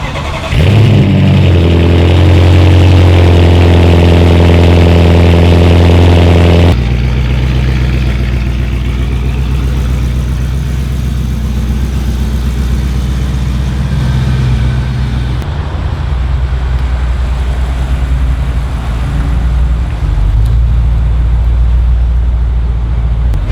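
An Audi S7's engine starts up and revs with a strong rising tone, then settles into a loud, steady idle and low rumble as the car rolls into a garage.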